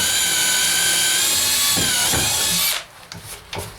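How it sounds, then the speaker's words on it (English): Bosch DDB181 compact 18V drill/driver boring a 1/4 inch hole through a 2x4: a steady, loud high-pitched motor whine holds for nearly three seconds, then cuts off, leaving a few faint knocks and handling sounds. "Now I'm going to go ahead and drill some holes through a 2x4."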